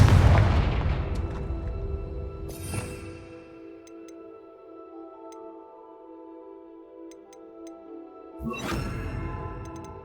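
The Confringo blasting spell in Hogwarts Legacy goes off with a loud opening boom that fades into a lingering rumble. A second sharp burst follows near the end, with faint ticks scattered through the quieter middle.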